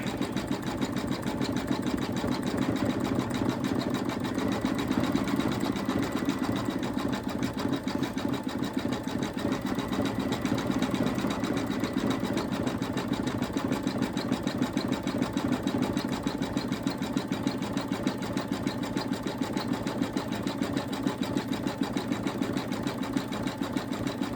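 An embroidery machine stitches an Easter bunny appliqué with a Brother hoop, running as a constant rapid mechanical chatter throughout, close and even in level, with no pauses or talking.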